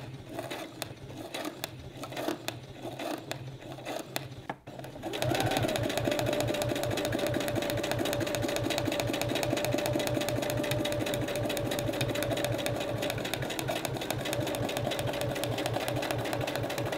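A sewing machine fitted with a Schmetz spring needle, stitching through water-soluble stabilizer, starts up after a quiet stretch and runs in a steady, loud, fast rhythmic whir that continues to the end.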